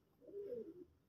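A caught pigeon gives a single soft, low coo, faint and brief, followed by a small thump at the end.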